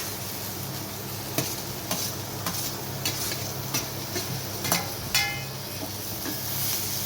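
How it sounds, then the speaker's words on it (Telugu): Sliced ivy gourd frying in oil in a pan, a steady close sizzle broken by repeated spoon scrapes and stirring knocks against the metal. "దొండకాయలన్నీ వేసేస్తున్నాను"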